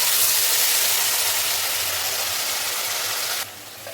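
Black cumin seeds sizzle in hot oil in a wok, a steady close hiss and crackle that holds for several seconds and then eases off quietly at the end.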